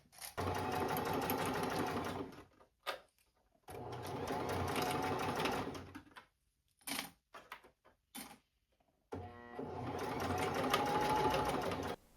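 A sewing machine stitches a rolled hem on a dress in three loud, steady runs, separated by short pauses and a few brief stop-start bursts.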